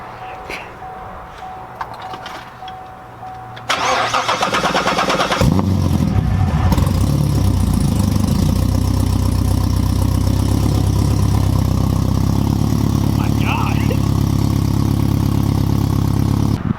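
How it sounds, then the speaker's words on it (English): A Chevrolet Corvette C7 with two O2 sensors deleted starts up for the first time: a short crank, then the engine catches loudly and settles into a rough, throbbing idle that holds to the end, with voices faintly underneath. "So here we go, first startup."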